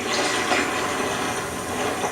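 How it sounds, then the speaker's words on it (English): Chilled beer wort poured from a height into a homebrew fermenter, making a loud, continuous rushing splash of liquid that stays steady and close for the whole stretch, with no voices. "you can pour from a little bit of a height and allow some splashing"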